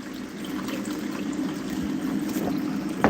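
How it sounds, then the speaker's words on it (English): An indoor water fountain trickles quietly and steadily, a soft continuous splashing and dribbling with a few small drips, close by and faint, with no voices. "So does the water fountain."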